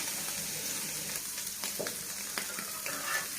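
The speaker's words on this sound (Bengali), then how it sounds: "পরিমাণ মতো লবণ আর হলুদের গুঁড়া দিয়ে দিলাম, দিয়ে এবার একটু ভালো করে ভেজে নেব।" Shrimp frying in a pan with salt and turmeric powder, giving a steady close sizzle with a few clicks and stirring scrapes throughout, no voices.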